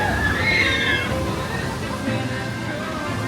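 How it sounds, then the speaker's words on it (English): Water sloshes and splashes on Tiana's Bayou Adventure log ride at Disneyland, a continuous rushing wash under faint crowd babble. "Next up is Tiana's Bayou Adventure, formerly known as Splash Mountain."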